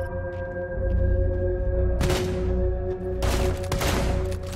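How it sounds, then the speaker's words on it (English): Shotgun blasts tear through a wall in Rainbow Six Siege, two loud bursts roughly a second apart over a steady electronic hum and game ambience, with no voices. "It is a shotgun through a wall."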